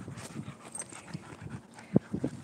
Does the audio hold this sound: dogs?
yes